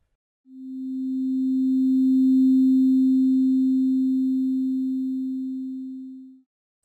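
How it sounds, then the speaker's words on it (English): A single Sonic Pi synth tone, pure and sine-like, swells in slowly over a two-beat attack and fades over a four-beat release, steady pitch, clean and alone. "take 2 beats to get loud and 4 beats to get soft."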